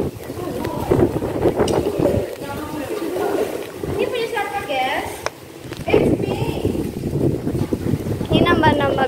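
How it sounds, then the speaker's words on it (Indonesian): Strong wind buffets the microphone in a continuous loud roar on a boat ride, with people talking over it throughout. "Anginnya kenceng banget, coy."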